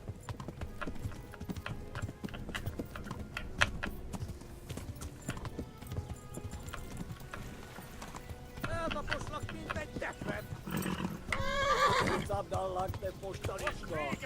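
Horse hooves clip-clop and a horse whinnies in the medieval game Kingdom Come: Deliverance, a loud rising neigh near the end over steady hoofbeats and background game sounds, with voices talking.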